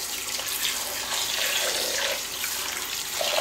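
Brined pheasant and partridge meat is swirled in a container of water, producing a continuous close sloshing and splashing that surges and settles for a few seconds.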